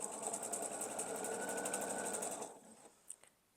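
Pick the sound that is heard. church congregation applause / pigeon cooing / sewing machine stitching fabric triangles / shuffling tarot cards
sewing machine stitching fabric triangles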